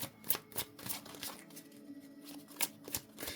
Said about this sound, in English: So I'm going to bring some clarifiers in for these cards.